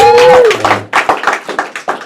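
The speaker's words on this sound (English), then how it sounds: "Clap it the fuck up for me." Scattered clapping from a comedy club audience at a stand-up show, starting after a brief whistle-like tone and continuing as uneven, sparse bursts of hand claps with some crowd noise.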